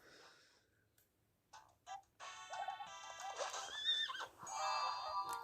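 A horse in the Nintendo Switch game Miitopia gives a bright, high whinny after a few soft clicks and taps, the neigh rising and wavering clearly on its own with no talk.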